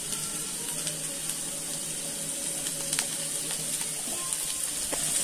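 Onions and capsicum fry in a pan with a continuous, moderately loud sizzle and occasional faint clicks, and no talking over it.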